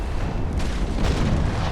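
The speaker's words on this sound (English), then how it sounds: "I assume at any point when his guns reload, yeah, he was saving this broadside for me" Enemy warship's cannon broadside in the naval combat game Naval Action, heard as a continuous loud, deep rumbling roar of overlapping booms with no talk.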